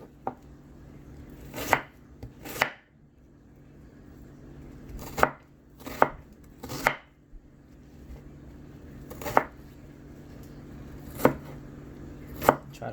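Sweet yellow onion being chopped small on a cutting board for street tacos, heard as about a dozen crisp knife strikes in uneven bursts and pairs with short pauses between, close and clear with no talk.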